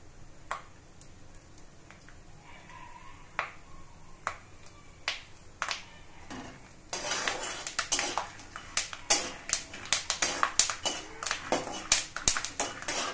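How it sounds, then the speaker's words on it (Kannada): Peanuts fry in hot oil on a medium flame for a tempering, giving sharp irregular pops that start sparse and build into dense, loud crackling close by. "ಕಡಲೆ ಬೀಜ ಪಟ ಪಟ ಚಟಪಟ ಅಂತ ಐತೆ"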